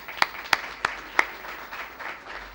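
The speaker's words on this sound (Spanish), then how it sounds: "yo les voy a dar un aplauso y se lo dan todos ustedes" Audience applause at a business conference in Spain, heard as a few sharp, separate claps that give way to a soft, scattered patter fading out over a couple of seconds.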